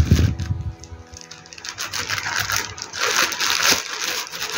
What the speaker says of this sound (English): So I will use scissors to open the package.